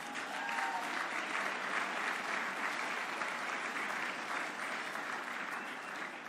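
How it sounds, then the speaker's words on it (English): An audience at a student awards ceremony applauds, a sustained, even wash of clapping from many hands that holds steady throughout and fades slightly at the end. "I especially would like you to give them a round of applause"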